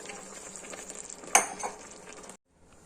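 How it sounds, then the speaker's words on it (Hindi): Flour and water mixture being stirred into a pan of chicken Manchurian with ketchup, soy sauce and chili garlic sauce, a soft sizzle and scraping under a sharp utensil clink near the middle, then sudden quiet. "और फ्लोर और पानी वाला मिक्सचर इसके अंदर शामिल कर देंगे।"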